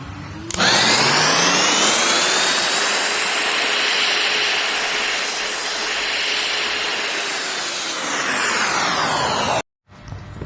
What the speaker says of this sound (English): Get rid of some of these grooves with the heat gun if you want.